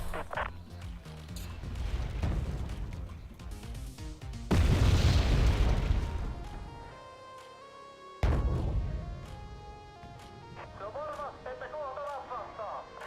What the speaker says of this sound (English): Some kind of artillery there